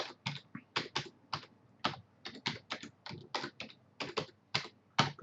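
Keys tapped on a computer keyboard while entering a password during a Windows Server 2012 install, an irregular series of sharp, close clicks in quick bursts over a quiet background.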